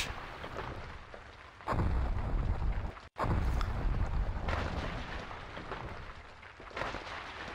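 Deep rumbling eruption blasts from a volcano in the Roblox game Natural Disaster Survival, heavy low roaring bursts with a brief cut near the middle, loud and continuous, with windy storm noise.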